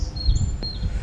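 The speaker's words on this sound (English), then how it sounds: "You can hear the birds singing" Small birds chirp with thin, high tweets outdoors, faint against a low rumble of wind or handling noise.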